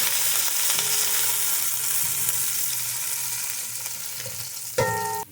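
Crushed garlic and chili, with ginger, frying hot in a pan for tanigue sinigang, giving a loud, steady sizzle that continues throughout and ends with a sharp metallic clank.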